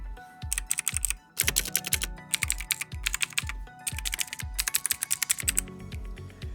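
Close, clacky typing on a Lorgar KBR70TKLW tenkeyless mechanical keyboard in quick bursts of keystrokes, separated by brief pauses.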